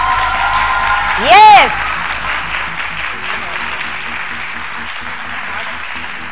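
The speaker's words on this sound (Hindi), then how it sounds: "जोर से अपने लिए तालियां बजाएं" A studio audience of women and girls on a morning talk show applauds briefly, a loud burst of clapping that fades quickly under a host's voice and background music.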